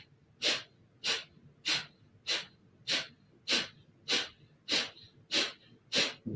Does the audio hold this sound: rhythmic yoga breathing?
yes